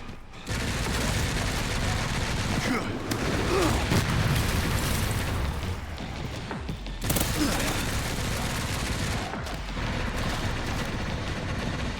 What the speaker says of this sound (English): But I want to know where that mortar shot just came from.